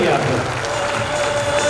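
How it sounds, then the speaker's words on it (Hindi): Hall audience at a training session applauding together, a steady dense wash of clapping at moderate loudness lasting the whole moment, with a faint voice running through it. "दिल से ताली बजा दीजिए"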